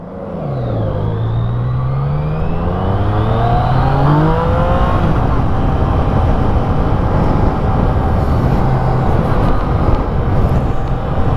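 A Yamaha MT-09 three-cylinder motorcycle engine revs up through rising pitch, then settles into a loud, steady drone close by.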